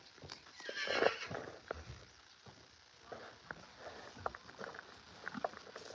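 A horse whinnies near the start, followed by scattered hoof clops on hard ground and faint rustling, without any talk.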